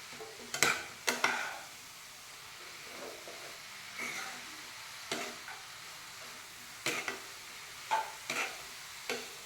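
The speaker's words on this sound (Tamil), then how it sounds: "நெய்யிலே நல்லா வதக்கணும்." Vegetables, carrots for halwa, stirred in ghee in a pan, with scattered scraping and clattering stir strokes over a soft background sizzle, several sharp clusters of spoon contact spread across the stretch.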